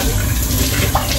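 Tap water running steadily into a kitchen sink while dishes are washed, a close, loud, even splashing rush for a brief moment with no talk.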